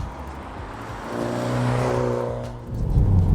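A 2019 BMW X2 M35i engine revs up with a deep growling tone, rises and holds, dips briefly, then surges again loudly near the end.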